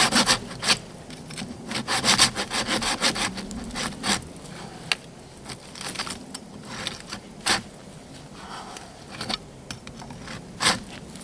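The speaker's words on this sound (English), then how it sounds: "Cut it at an angle here. Blade's really binding up in the kerf." A hand saw cuts through resinous fatwood with the blade binding in the kerf, giving rough, uneven rasping strokes close by, some bursts stronger than others, with no talking.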